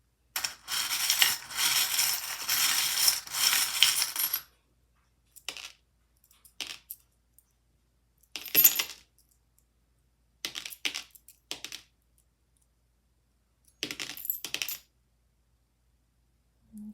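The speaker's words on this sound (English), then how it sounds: "The charms will make some noise as I kind of mix them around and feel them out" Small metal charms stirred and shuffled by hand for a charm reading, a dense jingling clatter at first, then scattered short bursts of clinking and rattling separated by quiet pauses, close up with no talk.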